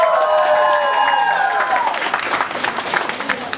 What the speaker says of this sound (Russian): Заслуженные призы и аплодисменты.